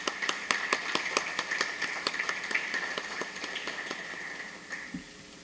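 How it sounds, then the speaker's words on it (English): Applause for event sponsors at a commercial real estate conference, a steady patter of many hands clapping in a fairly quiet room, thinning out toward the end with no talk over it. "Let's give a round of applause to our sponsors"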